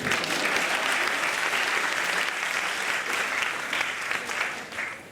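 Audience applause for a magician's assistant during a magic show, a dense steady wash of many hands clapping that holds for about five seconds and then thins slightly toward the end.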